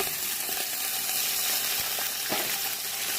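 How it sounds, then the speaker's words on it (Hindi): Chicken pieces frying in a pan with garam masala for pulao, giving a steady, close hiss of sizzling oil with a few faint scrapes and clicks of stirring throughout. "चिकन का कलर चेंज होने तक फ्राई करेंगे।"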